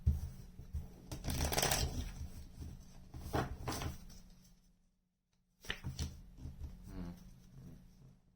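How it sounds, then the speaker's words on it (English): Tarot cards are shuffled by hand in quick riffling bursts close up, with a brief silent pause before a final round of shuffling. "One more shuffle."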